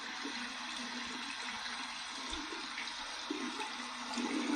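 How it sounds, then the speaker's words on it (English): An Excalibur adjustable razor is rinsed under a cold running tap, with a steady, moderately quiet stream of water that swells slightly toward the end. "we're going to go ahead and run this under some cold water and see what kind of feedback we get."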